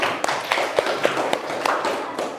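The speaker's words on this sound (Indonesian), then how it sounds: "kita berikan tepuk tangan untuk kelompok-kelompok yang maju tadi ya semuanya" Classroom applause for student groups who presented, a short burst of scattered clapping from a small group of people in a room, uneven and moderately loud with a few sharper claps standing out.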